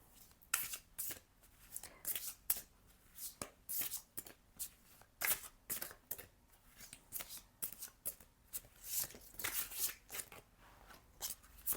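A deck of oracle cards being shuffled by hand, with repeated crisp riffling and flapping bursts over about twelve seconds, close and fairly quiet, with no talking.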